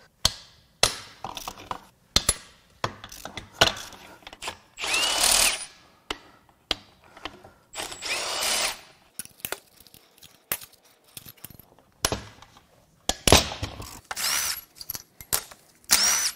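A power tool, likely an impact gun, spins out tail housing bolts on a Mazda Miata manual transmission during teardown, giving loud close bursts of whirring and rattling hammering separated by short pauses and clinks, no speech.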